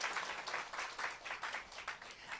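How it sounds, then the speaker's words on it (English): An audience at a business products and compensation plan presentation gives a short round of applause, moderately faint, with uneven pulses of clapping and no talk. "Can we get a round of applause for our leaders?"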